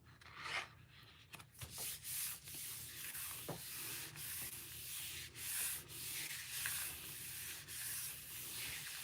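A magazine image being rubbed by hand onto a gel printing plate: a steady, soft scraping and rubbing in repeated back-and-forth strokes, close and quiet, with no talking.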